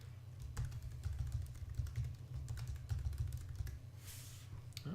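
Rapid keystrokes on a computer keyboard as a password is entered, a steady run of close, crisp clicks over a low hum, with a brief louder burst near the end.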